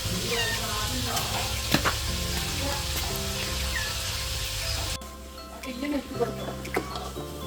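Chicken pieces fry in a pan during home birthday cooking, a steady close sizzle with occasional stirring clicks and a voice talking over it, and the sound drops slightly partway through.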